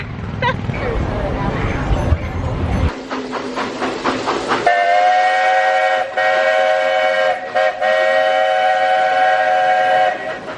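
A Disney World theme park train rolls past with clacking wheels, then a long, steady horn-like whistle sounds loudly and holds, with voices in the background.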